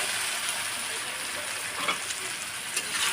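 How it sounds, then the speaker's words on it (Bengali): Chickpeas fry in a cooked spice paste, giving a loud, steady hiss and sizzle with a few faint stirring knocks close by. "মশলাটা আমার কষানো হয়ে গেছে, আমি দিয়ে দিলাম ছোলা বুটগুলো"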